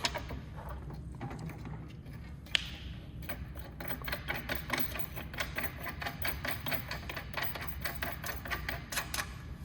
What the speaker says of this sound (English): we're going to screw these two screws into the bottom two screws through these holes